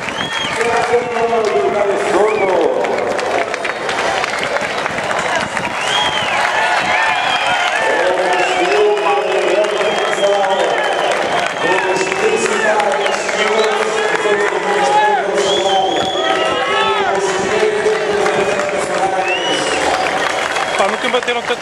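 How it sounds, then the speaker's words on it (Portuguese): An audience at a classic car event claps and cheers in a loud, continuous wash of applause, with voices talking over it throughout. "Nunca bateram tantas palmas."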